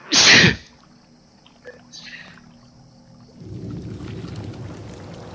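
A single loud, sharp sneeze bursts out at the start, close and brief, followed by quieter rustling and a low murmur of voices in the background.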